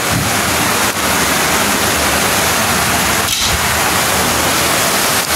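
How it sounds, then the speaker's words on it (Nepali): Heavy rain pours down steadily as a dense, loud, broadband wash with no pauses, one brief dip partway through, and no voices. "पानी परिरहेछ एकदम ठुलो पानी परिरहेछ"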